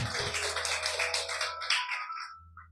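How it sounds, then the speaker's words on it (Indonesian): Worshippers clapping during a church service at GKKD Lembang, streamed live over Zoom, a brisk burst of applause that thins out and fades into near silence within a few seconds. "Beri tepuk tangan buat Allah kita"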